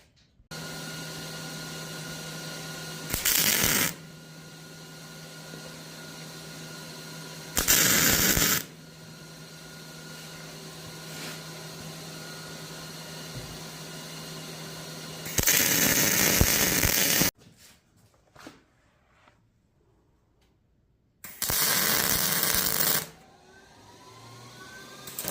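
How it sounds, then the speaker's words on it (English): Tack welding on steel pieces for a tractor receiver hitch: several short bursts of loud crackling hiss, each lasting one to two seconds, separated by quieter stretches of background hum and near silence. "So we'll start getting all this tacked together."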